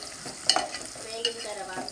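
Ghee sizzles in a pan while brinjal is fried for a curry, a soft steady crackle broken by a few sharper stirring clinks and spits.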